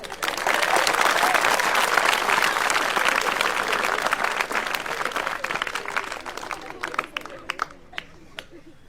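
An audience claps hard in a broad wash of applause that gradually thins out, individual claps becoming distinct as it fades, with murmuring voices underneath.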